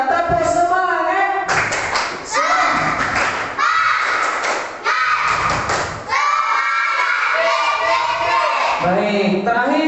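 A school class doing rhythmic spirit claps in unison, loud grouped bursts of clapping mixed with children's chanting voices, close and energetic.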